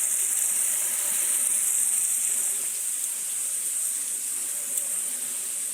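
A ribeye steak sizzles in a pan right after being flipped, making a continuous bright, close, even hiss with no other sounds.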